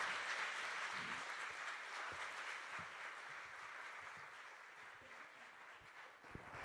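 An audience at a New York Times Climate Hub event applauds steadily as guests are welcomed on stage, a dense, even wash of clapping that holds at moderate level and fades slightly toward the end.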